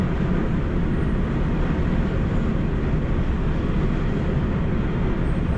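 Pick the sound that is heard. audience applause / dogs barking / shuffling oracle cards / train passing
train passing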